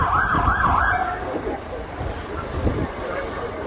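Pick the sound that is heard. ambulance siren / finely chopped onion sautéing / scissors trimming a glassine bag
ambulance siren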